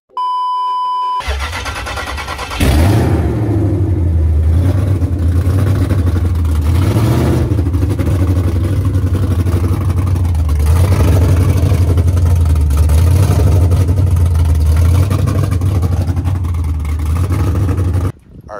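Chrysler 300C with long tube headers cranks and fires after a chime, then idles loud and raspy, close up, with repeated throttle blips swelling and falling over a deep rumbling exhaust.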